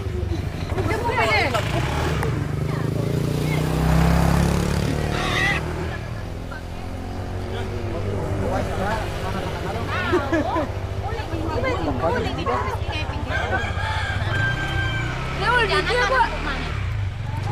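A motorcycle engine drones steadily on a ride to a village wedding in Pedawa, its low rumble running throughout beneath near, continuous conversation among riders.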